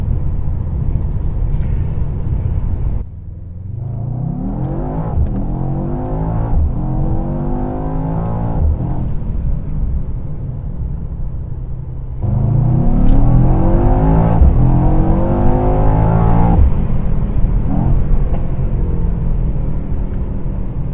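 A 2021 Mercedes-Benz E63 S engine heard from inside in race mode climbs repeatedly through rising revs as it accelerates hard, each pull sweeping upward before a brief drop and surging again.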